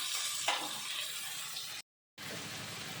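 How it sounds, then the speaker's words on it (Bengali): Chopped onion, tomato and garlic masala for a bhola fish curry fries and is stirred in a pan, a soft, faint sizzle with a brief silent break. "এবার টমেটোটা দিলাম, এবার রসুনটা দিলাম, সর্ষে বাটাটা পরে দেবো। এখন এটা কষাবো।"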